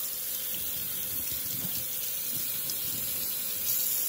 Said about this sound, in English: first he's going to turn on the water